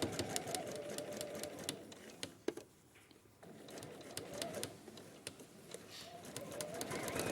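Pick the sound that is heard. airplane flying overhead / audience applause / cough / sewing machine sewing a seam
sewing machine sewing a seam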